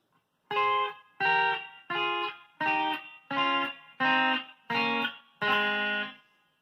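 Eight distorted electric guitar chords of paired notes harmonized in thirds, each held for about half a second with short gaps between, played clearly with no talking.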